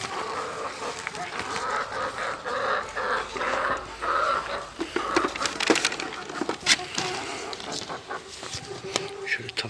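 Free-range Lohmann Sandy laying hens cluck and murmur around a coop with wood-shavings nest litter, the bird sounds intermittent and mixed with scratching and clatter while a person talks nearby.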